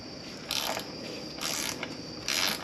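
A ratchet tightening the gasketed oil level sender bolts on a BMW E46 M3, three separate bursts of close metallic clicking spaced about a second apart, with quiet pauses between strokes.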